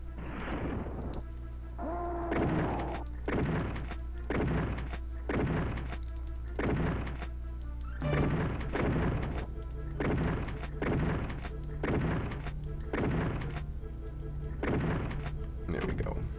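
Shotgun blasts in the SNES version of Doom, a dozen or so heavy booming shots at an irregular, roughly one-per-second pace, loud and alone over a low game hum.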